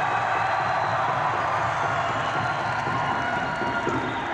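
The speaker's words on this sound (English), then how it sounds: "give yourself a round of applause" A concert arena crowd at a show in the Peoria Civic Center roars with cheering and applause in a dense, continuous wash that holds steady throughout.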